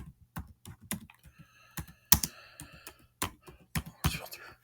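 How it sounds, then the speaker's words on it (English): Typing on a computer keyboard, a series of crisp, close key clicks in uneven short clusters with brief pauses between them, fairly quiet overall. "I'll type in the input box up here on the top left."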